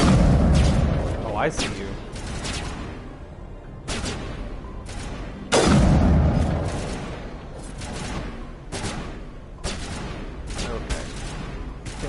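Bursts of gunfire and booming blasts from the video game Mass Effect Legendary Edition come in rapid volleys with heavy impacts, loud and steady across the whole stretch, while a player talks over the combat.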